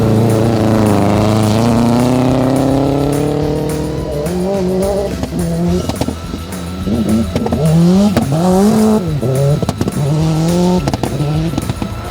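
Rally cars race on loose gravel at the Rallye Défi Petite Nation, engines revving loudly and rising through the gears, then braking and re-accelerating with rapid pitch swings as they pass close by.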